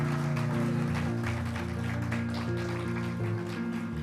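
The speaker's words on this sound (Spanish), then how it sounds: "dale un fuerte aplauso al Señor" Church congregation applauding in praise during a sermon, steady clapping spread over sustained organ or keyboard chords and music that fill the whole stretch.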